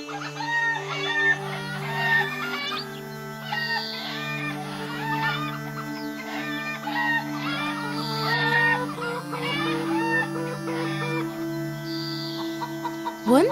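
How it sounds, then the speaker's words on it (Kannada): Chickens cluck and crow from a village flock in an animated Kannada moral story, with repeated clucks over a steady bed of background music and no speech. "ಅವ್ರ ಹತ್ರ ತುಂಬಾನೇ ಕೋಳಿಗಳಿರ್ತಿತ್ತು"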